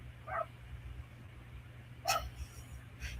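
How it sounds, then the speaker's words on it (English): A dog barks twice outdoors at a distance, a short bark early on and a louder one a couple of seconds later, over a low steady hum. "Now there's a dog outside barking."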